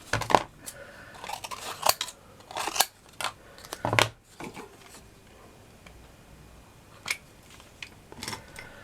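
Scissors snipping through shadow box craft material, a series of sharp separate cuts and clicks at an irregular pace, close up in a quiet room.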